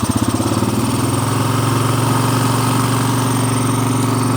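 A broken Polaris ATV engine runs close and loud at high RPM. It starts with a few quick pulsing revs, then settles into a steady, strained drone that holds to the end, with no talking.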